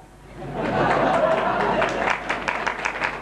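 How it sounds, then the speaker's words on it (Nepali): An audience at a spiritual lecture on education breaks into applause that swells quickly, holds as a dense wash of clapping, then thins into scattered claps. "हेर्नुहोस् बेरोजगारीहरूको ताली"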